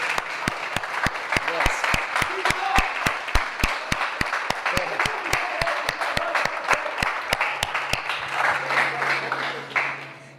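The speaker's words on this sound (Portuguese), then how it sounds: "E eu gostaria de dar uma salva de palmas para as mães" A church congregation claps for the mothers on Mother's Day, a full, sustained round of applause with a steady rhythmic beat running through it that carries on for about ten seconds.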